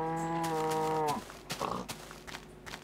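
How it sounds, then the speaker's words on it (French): A cow in the Minecraft video game lets out one long, loud, low moo lasting about a second, followed by soft shuffling footstep clicks. "Nous avons des vaches."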